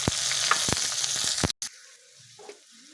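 Chopped onion hits hot oil already seasoned with nigella seeds and dried chillies, a loud, dense sizzle with a few sharp crackles that cuts off abruptly, leaving a much quieter frying hiss with soft scrapes.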